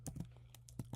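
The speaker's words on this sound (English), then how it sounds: "I'm typing it all out" Quiet, close computer keyboard typing while scripting in Roblox, a handful of quick irregular key clicks spread over about a second.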